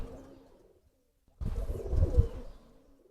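A giribaj pigeon coos close by in a low, throaty burst that follows a brief near-silent pause.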